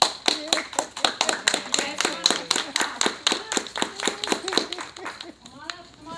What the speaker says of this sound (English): Give your kids a round of applause.